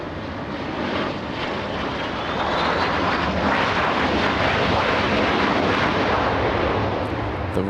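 A JSX Aviation airplane at LAX roars loudly and steadily, a broad jet rumble swelling after a couple of seconds and holding strong throughout, with no talk over it.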